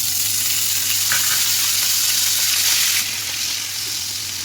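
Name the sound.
whole cumin and ginger garlic onion paste sizzling in oil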